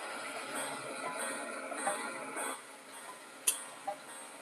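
A small antique granddaughter clock ticks steadily and faintly indoors, with a couple of brighter metallic clicks near the end and no talk.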